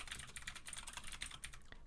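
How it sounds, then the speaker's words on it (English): Rapid keyboard typing on a computer keyboard during a hacking session, a steady run of close, crisp key clicks filling the whole stretch with no voices. "I don't know why I'm typing it"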